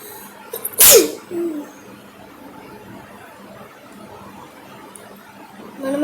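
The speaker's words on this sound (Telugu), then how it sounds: "నాకైతే కొంచెం జలుబు చేసింది, అందుకే తుమ్మొచ్చింది" A single sharp, loud sneeze from someone with a cold bursts out close by, followed by quiet room sound.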